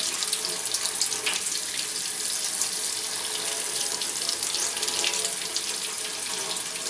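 Cold tap water runs steadily from a faucet over a glass beer bottle, a constant close splashing hiss with no pauses.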